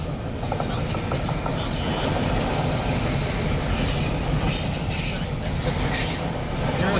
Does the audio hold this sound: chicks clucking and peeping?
no